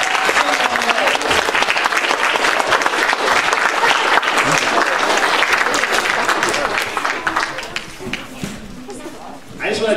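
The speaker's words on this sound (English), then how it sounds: "We get another round of applause" A church audience at a Christmas marionette play claps loudly and densely, a full room of applause with some crowd noise mixed in, thinning and fading toward the end.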